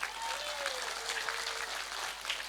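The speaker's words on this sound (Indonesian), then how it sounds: "tepuk sing banter, gak usah sungkan-sungkan" Audience applause during an Islamic religious sermon in Karangampel, Indonesia: steady, fairly faint crowd clapping throughout, with a thin whistle-like tone gliding briefly over it.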